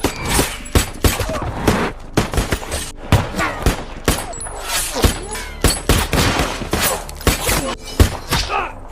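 Rapid bursts of gunfire fill a shootout scene in the film The Book of Eli, a dense run of loud cracks and volleys with impacts and shattering debris, no pauses for talk.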